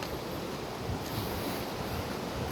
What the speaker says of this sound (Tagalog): Naririnig ko na yung falls.